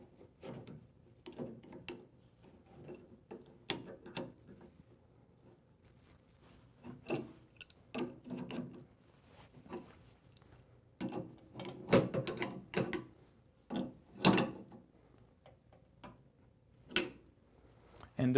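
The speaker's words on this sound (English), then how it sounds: "then we're going to use the wrench to bring it back around here" Wrench tightening a safety valve fitting back around after hand-tightening, giving quiet, irregular metallic clicks and ratchet-like taps scattered over about eighteen seconds, with a few louder knocks near the end.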